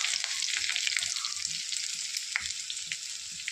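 Chopped garlic, ginger and dried red chillies fry in hot oil, making a constant bright crackle with scattered sharper pops, close and alone without talk.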